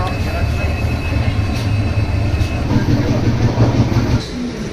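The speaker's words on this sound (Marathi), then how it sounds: "उतरतच होतो आम्ही आणि चालू झाली ट्रेन" A passenger train rolls along just after leaving Lonavala station, a loud steady low rumble and rattle heard from inside the coach, easing slightly near the end.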